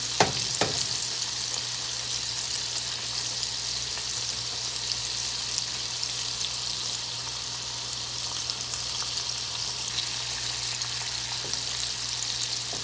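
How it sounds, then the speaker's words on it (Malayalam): Chicken pops deep frying until crisp in hot oil give a continuous bright, bubbling sizzle with a few light clinks near the start, steady and alone. "നന്നായിട്ട് ക്രിസ്പി ആയിട്ടുണ്ട്, നന്നായിട്ട് ഫ്രൈ ആയിട്ടുണ്ട്"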